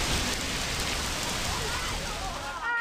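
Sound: heavy rain and hailstorm in São Paulo

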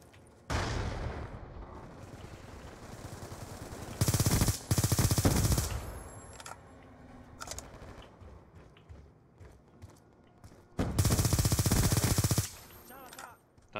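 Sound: gunfire in video game Black Ops II multiplayer

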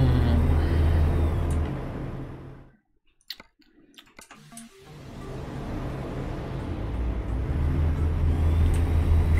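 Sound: truck driving in American Truck Simulator video game

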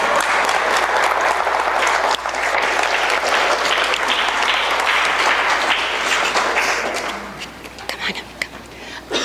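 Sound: audience applause after a poetry reading

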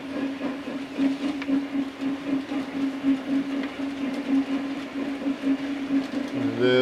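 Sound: cement train hauled by Stanier 8F steam locomotive

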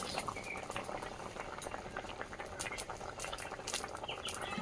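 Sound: curry broth boiling in pot

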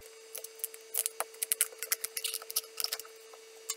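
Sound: knife cutting through tough squash skin

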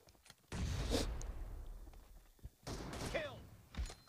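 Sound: M24 sniper rifle gunfire in a video game

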